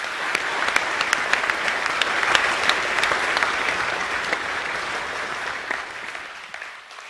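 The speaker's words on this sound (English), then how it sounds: "Can we give both those guys another round of applause, please?" A school academic awards assembly audience claps for two students, a dense sustained round of applause with sharp individual claps standing out, gradually thinning and fading toward the end.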